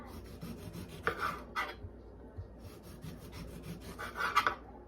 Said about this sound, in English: it's so easy with the serrated knife. See, it just goes right around.